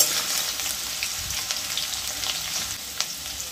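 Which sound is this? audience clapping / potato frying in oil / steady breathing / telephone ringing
potato frying in oil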